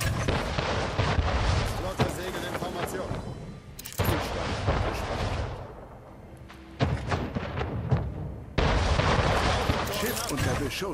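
Ship cannons fire in a naval battle in the video game Anno 1800, a dense barrage of loud booming blasts and rumbling impacts that rolls on with brief lulls.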